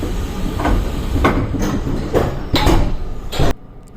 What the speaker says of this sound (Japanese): さあ、列車がやってきました。 681系の特急白鷺です。